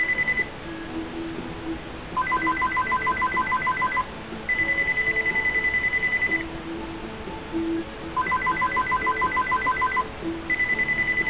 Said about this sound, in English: Now my phone's going off.